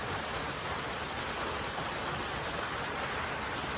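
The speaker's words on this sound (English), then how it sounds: "Yeah, it's rainy." Steady rain falling on a rainy day, a constant even hiss of drops at low volume with no voices.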